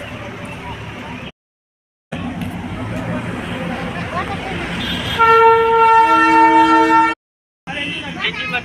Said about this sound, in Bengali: টয় ট্রেনে চেপে পৌঁছে গেলাম